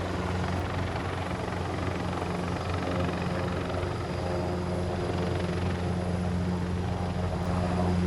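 An EC-725 military helicopter hovering during fast-roping at a live-fire exercise gives a loud, steady rotor and turbine drone with low throbbing tones, continuous and close, with no voices.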